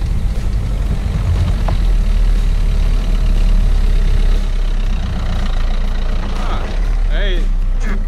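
A car pulls in and idles at a rural campsite, a steady low engine rumble running throughout, with voices talking over it and a brief chirping sound near the end.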